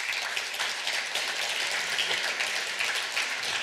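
Applause from an audience at a forum event, a continuous, even wash of many hands clapping at moderate volume with no voices over it.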